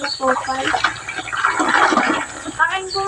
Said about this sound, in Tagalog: unahin natin hugasan yung mga plato